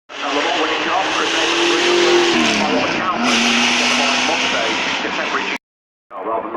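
A Gurney Eagle Chevrolet FA74 race car roars past at a hill-climb event, a loud raw engine note that drops in pitch as it goes by, then cuts out briefly before the noise resumes.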